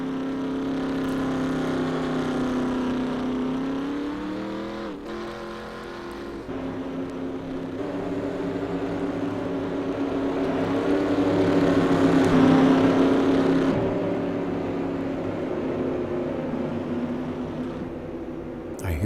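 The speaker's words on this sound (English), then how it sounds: "I hear some guys out here shutting their engines off, Ed." Race car engines roar through a dyno league race at Jennerstown, a continuous dense drone of several motors that swells louder toward the middle as cars pass, then eases off.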